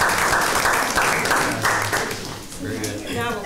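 Audience applause for Richard Hayden at a county board work session, a steady wash of clapping with some voices mixed in throughout.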